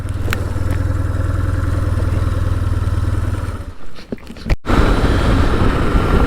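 A BMW R 1150 GS Adventure motorcycle engine runs steadily and evenly up close, then a short rustling break interrupts before the engine note returns at a similar level.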